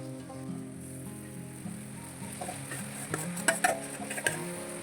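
Mashed banana mixture for samosa filling being stirred in a pan, soft scraping strokes with a few sharper spoon-on-metal clinks toward the end, quiet and close over a faint background hum.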